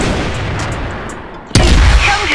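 Gunfire in the video game CrossFire: a sustained rumbling barrage, then one sharp, loud blast that cuts in suddenly and is followed by continued heavy booming, close and dense.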